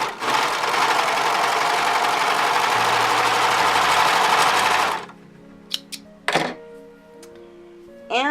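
A Singer 1034D serger stitches cotton and stretch fabric in a loud, steady mechanical whir for several seconds, then stops, followed by a few clicks and thunks.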